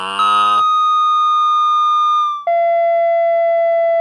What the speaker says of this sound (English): another classic Halloween spooky sound is the ghost sound